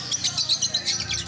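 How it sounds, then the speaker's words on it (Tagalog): Parakeets or lovebirds of many colours in a nature park aviary chirp in quick, bright, overlapping bursts, close and lively, with a person speaking faintly underneath. "Lots of different colored parakeets here. Or lovebirds."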